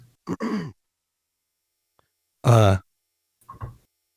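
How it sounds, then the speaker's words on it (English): A short throat clearing, a few brief rough bursts separated by silence, close and fairly loud. "Geez, gotta clear my throat."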